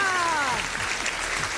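Audience applause greets a band at a youth talent show, a dense wash of clapping that swells after a brief voice at the start and continues steadily.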